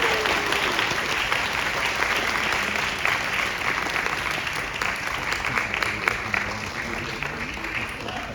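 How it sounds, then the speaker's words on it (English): A graduation crowd at a Queens College CUNY ceremony breaks into a round of applause, dense and steady clapping that fills the hall throughout with faint voices mixed underneath. "So I just want to give a round of applause for Virgil,"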